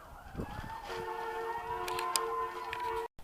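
Fire truck and ambulance sirens pass by outdoors beside a vegetable garden, steady wailing tones rising and holding loud and close for about three seconds, then cutting off abruptly.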